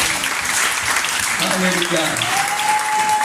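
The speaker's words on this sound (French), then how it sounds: "On peut applaudir." Congregation applauding at an evening evangelism service in Débrimou, Côte d'Ivoire: steady, dense clapping runs throughout, with a voice calling out over it near the end.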